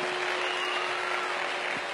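Steady, loud applause from an audience at a Vestige distributor success event in India, dense clapping that fills the whole moment with no pauses.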